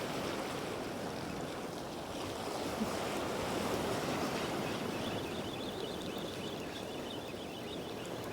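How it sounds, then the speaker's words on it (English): Sea swell and waves roll against a rocky shore, a continuous broad wash of surf mixed with wind noise, with no voices. "Swell's increasing as well."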